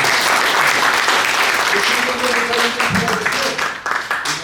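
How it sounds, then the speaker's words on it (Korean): A banquet-hall crowd at a dinner event breaks into sustained applause, dense and loud, with some voices mixed in before the clapping thins out at the end. "박수 한번."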